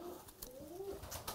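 A breeding pigeon coos softly in a low, rolling call, faint and a little muffled, with scattered small noises around it and no talk.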